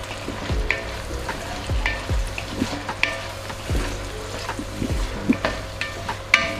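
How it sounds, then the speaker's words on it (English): Chopped mushrooms for a homemade alfredo sizzle steadily in a frying pan, with a continuous hiss broken by frequent scraping and stirring knocks close by. "Now I'm going to put my mushrooms in. I've already chopped them up, so they can cook as well."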